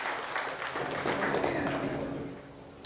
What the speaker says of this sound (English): All right, you can clap for that.